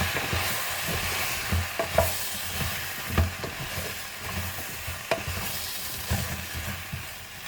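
Vegetables for pumpkin soup being stirred in a pan with oil, black pepper and salt, a spoon scraping and knocking in irregular strokes over a soft sizzle, close and clear with no talk.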